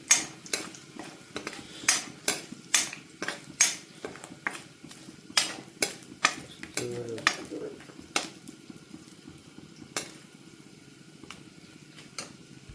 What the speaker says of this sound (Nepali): यो हाम्रो खडा मसला यही चलाउने।